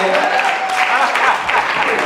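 A church congregation clapping during a Sunday morning service, a dense, steady burst of many hands close by, with voices and cheering mixed in.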